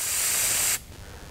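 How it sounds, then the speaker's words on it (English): Smoke sprayed into the air for a laser-beam demonstration in a lecture: one loud, close hiss from an aerosol spray that runs steadily for under a second, then cuts off abruptly into quiet room tone. "And if I put a little smoke in the air,"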